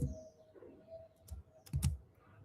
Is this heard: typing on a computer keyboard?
yes